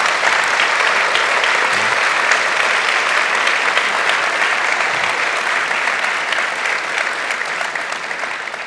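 A conference audience applauds two guest presenters, producing dense, loud, sustained clapping that holds steady for several seconds and eases slightly toward the end.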